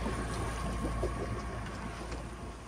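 Sailboat motoring with mainsail sheeted in and genoa set, in a force 6-7 wind off Turkey's coast: a steady low engine drone mixed with wind and water wash, constant and close throughout.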